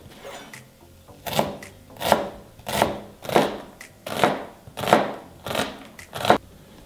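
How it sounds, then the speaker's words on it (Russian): Large onions being chopped into quarters with a knife on a board, about eight evenly spaced, crisp chops cut through near and clear with no talking. "2 луковицы довольно крупные нам нужно нарезать четвертинками."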